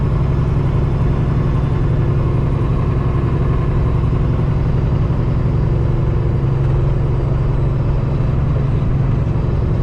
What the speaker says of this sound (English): the sound that this truck makes now with the engine and the pipes that it has